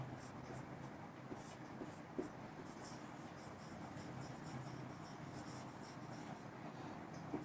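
Writing on a board during a physics class, a faint, continuous scratchy rubbing of the marker against the surface, heard close with little else around it.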